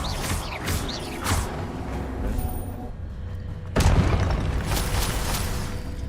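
A spell blast with booming, crackling magical impacts and mechanical creaks in the video game Hogwarts Legacy, loud and close, with a surge of energy partway through.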